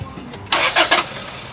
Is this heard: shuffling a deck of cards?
no